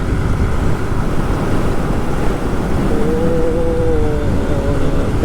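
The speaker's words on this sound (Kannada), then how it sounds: "ಗಾಳಿಗೆ ಹಂಗೆ ಹೆಲ್ಮೆಟ್ ಹಂಗೆ ಹಿಡಿತೈತೆ ಹಿಂದಕ್ಕೆ" Steady, loud wind roar buffets the microphone while riding a motorcycle on a highway, a continuous rushing blast with a faint whistling tone partway through and no talking.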